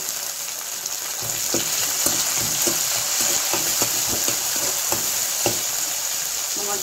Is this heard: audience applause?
no